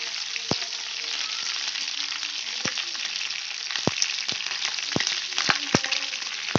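Neem leaves frying in oil in a pan, giving a steady bright sizzle with scattered sharp pops and crackles throughout.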